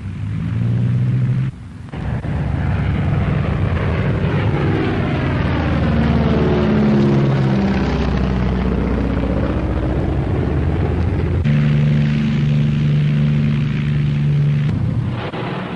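Avro Lancaster bomber engines droning loudly in flight, a dense, continuous multi-engine roar whose pitch slowly shifts and swells, with a brief dip near the start and steady tones returning later.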